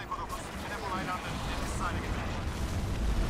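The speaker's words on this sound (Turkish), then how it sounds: "Abi dört bir yandan bombalıyorlar şu anda." Heavy bombardment explosions in the video game Crysis, a dense continuous rumble of blasts and low booms throughout, with voices talking over the din.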